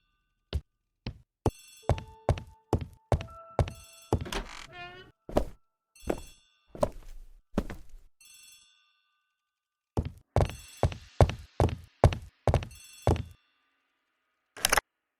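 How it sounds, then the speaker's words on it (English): An old-fashioned telephone rings in a hallway as an audio drama effect, with clusters of sharp metallic bell dings and clangs coming in repeated rhythmic bursts separated by brief pauses. "The telephone in the hall is ringing."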